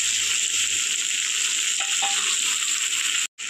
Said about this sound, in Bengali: মশলাটা খুব ভালো করে ভাজা হয়ে গিয়েছে